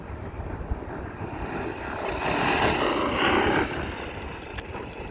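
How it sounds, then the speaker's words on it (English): A 6S-powered RC car running at full speed, its tires and motor producing a loud rising whine and roar that swells to a peak mid-run then drops back, with no talk over it. "Boy, you can just hear those tires."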